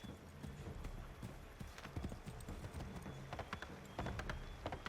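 A horse clip-clops steadily along at a trotting rhythm in Assassin's Creed III Remastered, its hoofbeats crisp and fairly close, with a faint snort or whinny mixed in under the quiet game ambience.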